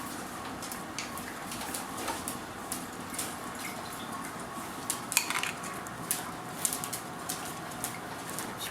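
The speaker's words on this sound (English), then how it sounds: "Spread it around with a spoon." A metal spoon scrapes and taps softly in a steady, faint rhythm as sauce is spread over a Chicago-style deep dish pizza base, with light clinks and no talking.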